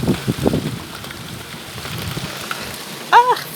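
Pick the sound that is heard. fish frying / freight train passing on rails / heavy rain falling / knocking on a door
heavy rain falling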